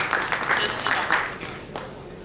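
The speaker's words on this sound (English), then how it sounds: "Let's give a huge round of applause." An audience applauds at a regional entrepreneurship business panel: scattered, moderately loud claps in uneven bursts that fade toward the end, with talking over them.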